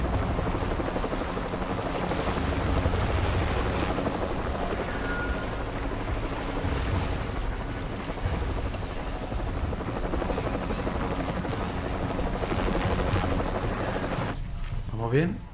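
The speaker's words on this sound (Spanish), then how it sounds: "¿Helicóptero?" A helicopter flying overhead in the Shadow of the Tomb Raider video game, a loud continuous rotor thump and engine roar that stays steady and close throughout before cutting off near the end, with no talking.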